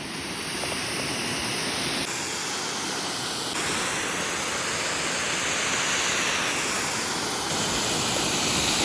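Waterfall at Dantiwada Dam in Banaskantha, a loud, steady broadband roar of rushing water that holds unbroken throughout the clip, with no voices.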